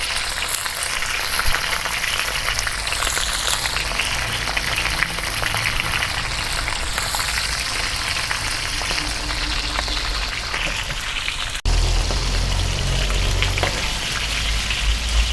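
Dried fish frying in a shallow layer of oil in a rural Cambodian kitchen, a steady dense sizzle and crackle running throughout, with a brief drop and then louder, fuller spitting near the end.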